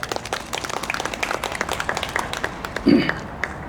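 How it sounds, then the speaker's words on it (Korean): Church congregation applause at a prayer meeting, a steady patter of many hands clapping throughout, with a brief louder thump near the end. "서로 격려하는 박수 보냅니다."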